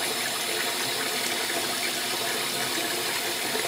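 Cold water gushes steadily from a tap for a post-shave rinse, a continuous broadband splashing rush that stays constant and close throughout.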